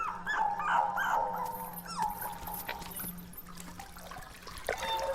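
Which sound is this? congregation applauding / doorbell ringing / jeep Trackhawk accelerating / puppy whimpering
puppy whimpering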